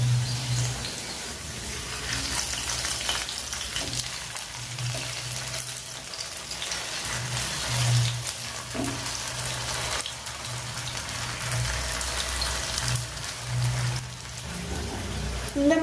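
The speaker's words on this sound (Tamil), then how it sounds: "எண்ணெய் காஞ்சோடனே இந்த மாதிரி வாழைக்காய் ஒன்று எடுத்து போட்டு ஃப்ரை பண்ணிக்கலாம்." Raw banana slices fry in hot oil for vazhakkai fry, giving a continuous dense sizzle and crackle like light rain, steady and close throughout.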